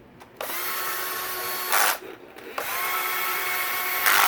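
An old Black & Decker power drill runs in two long whirring bursts as it drives bolts into a KTM 450 SX-F engine, with a short pause and a brief rev change between them, close and alone.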